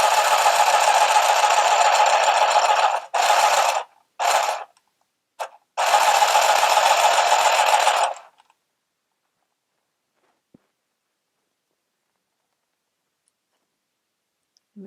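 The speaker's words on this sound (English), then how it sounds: "Now you can also use the handheld sewing machine holding it vertically to your body" A handheld sewing machine stitches in rapid, even mechanical ticking bursts, running for a few seconds, pausing briefly a few times, then stopping into silence.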